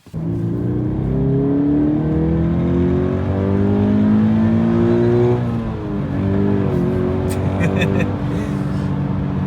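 Toyota GT86 with a petrol engine accelerating hard through the gears, its rising revving tone climbing, dropping at a shift, then climbing again. The engine is loud and close, and a voice talks over it.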